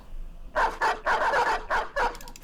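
Dogs barking in a video game, a rapid run of loud, close barks in uneven bursts, several overlapping yaps packed into a couple of seconds.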